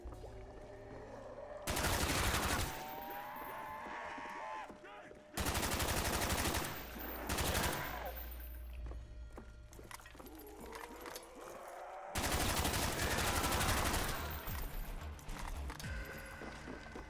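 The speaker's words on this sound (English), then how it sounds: "it's so easy to just sit here and hold down the trigger. There's so much ammo to these." Bursts of rapid machine gun fire in Call of Duty's Shi No Numa zombies map, three long sustained volleys separated by quieter stretches of in-game sounds, loud and close.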